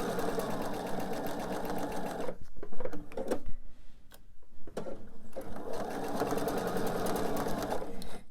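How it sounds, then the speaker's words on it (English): A sewing machine stitches a seam in quilting fabric for a pillow, with back stitching at the start and end. Fast, steady mechanical whirring runs in two bursts with a quieter pause between them, close and moderately loud. "do some back stitching at the beginning and end of the seam"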